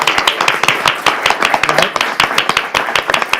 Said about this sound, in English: please give that guy a round of applause now.